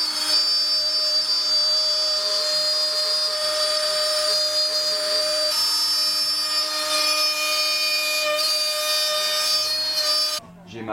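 Wood router fitted with a 4 mm bit cutting a 3 mm deep groove in wood for a sliding panel, part of building a cabinet in a VW Transporter T6.1 van conversion; steady, loud high-pitched whine running continuously, then cutting off near the end.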